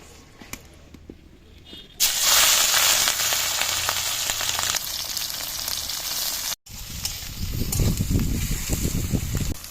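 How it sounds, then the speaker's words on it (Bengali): Small shrimp dropped into hot oil with dried chillies, a sudden loud crackling sizzle that stays steady and close, briefly cut, then resumes with bubbling and stirring. "তেল গরম হয়ে গেছে এবার চিংড়ি মাছগুলো দিয়ে দেবো"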